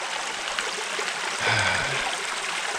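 A river stream in the wild along the Cape Wrath Trail in Scotland flows and trickles steadily throughout, a close, continuous watery rush with a slightly louder gurgling swell partway through.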